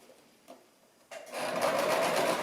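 A Brother LX-3125 sewing machine stitches through thick material, starting after a couple of faint taps with a loud, steady, fast mechanical whir that runs continuously at close range.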